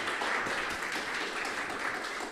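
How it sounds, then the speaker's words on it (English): An audience at a climate startup demo day applauds a presenter after his pitch, soft, steady clapping from a small crowd, faint and continuous for a couple of seconds. "Congratulations and applause to Luca."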